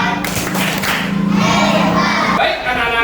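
A primary school class claps together in the rhythmic 'tepuk hebat' pattern, a dense burst of hand claps mixed with children's voices, loud and close in a classroom.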